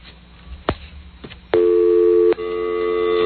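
A telephone call to a number on a 1994 radio show, with a few clicks followed by loud, steady tones and a short gap before they continue.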